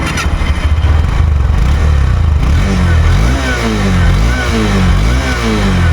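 Honda CB200X, a 184cc single-cylinder four-stroke touring motorcycle, revs loudly up close, its engine note climbing and falling in several rising sweeps over a steady idle rumble.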